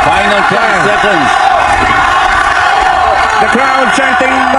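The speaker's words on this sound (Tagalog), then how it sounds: "the crowd chanting Magsayo" A boxing crowd chants a fighter's name, Magsayo, in a loud arena, the rhythmic repeated chant rising and falling in waves over a constant roar of voices.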